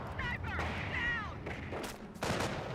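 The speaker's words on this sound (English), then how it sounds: "Snipers do take some shots." Sniper rifle shots in the real-time strategy game Company of Heroes ring out as a few sharp cracks among distant battle noise, with a voice talking over them.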